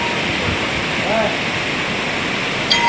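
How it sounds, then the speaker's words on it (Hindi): The Kho river rushes below a hillside temple at Dugadda near Kotdwar, a steady broadband wash of flowing water heard from above, continuous and fairly loud with no break. "नीचे आप देख सकते हैं ये नदी बह रही है"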